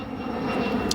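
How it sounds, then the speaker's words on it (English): An eight-year-old Atlas Air Boeing 747 freighter on final approach at O'Hare, about two miles out, a steady loud engine roar and rumble lasting the whole second with no break. "The 747 now slowed to final approach speed 160 knots."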